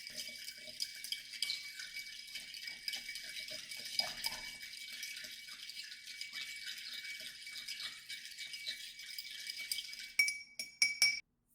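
A Manhattan cocktail stirred over ice in a glass gives a steady, soft swirl of clinking ice for several seconds. A few sharper, louder clinks come near the end, and no one speaks.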